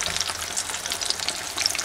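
Potato cutlets sizzle in fairly deep hot oil, a dense, steady crackle of frying with fine popping throughout.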